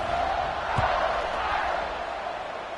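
Stadium crowd roaring in a college football video game, Oregon versus Notre Dame, a steady broad din of cheering before a kickoff, sustained and fairly loud throughout.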